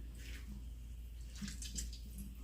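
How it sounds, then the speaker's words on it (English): Excess water being squeezed out of food for burgers, a soft continuous wet trickle and splash over a low steady background hum, faint and fairly close, with no talking. "what I'm doing is I'm squeezing the excess water out"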